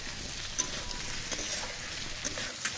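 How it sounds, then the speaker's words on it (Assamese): Pork fries with turmeric in a pan, giving a soft, steady sizzle with a few light stirring scrapes and small pops, close by and fairly quiet. "এয়া বিন্দাছকৈ ভাজি আছোঁ"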